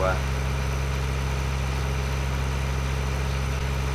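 Steady idling tractor engine in the video game Farming Simulator 2013, a continuous low, even drone at close range with no change in pace throughout.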